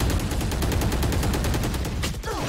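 Rapid automatic gunfire fills a tactical shooter game, with dense overlapping bursts running almost the whole time at close range before a brief drop-off at the end.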